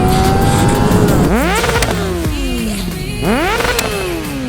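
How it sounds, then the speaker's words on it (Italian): A 2002 Kawasaki Ninja 636 motorcycle with an engine running poorly revs up loudly twice nearby, each sweep climbing in pitch and then dropping back to a rough, uneven idle. "La moto sta andando male."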